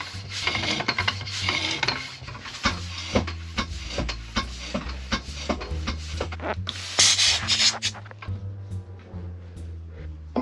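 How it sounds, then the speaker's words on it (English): Hand pump inflating a flat rear bicycle tyre, steady rhythmic strokes repeating close by with airy pushes and faint clanking, no talking. "I'm going to pump it up and leave it for a little bit"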